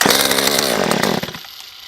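A Stihl MS194t top-handle chainsaw with a fuel problem fires up and runs loud and close at half throttle on full choke, then cuts out abruptly after about a second and a half.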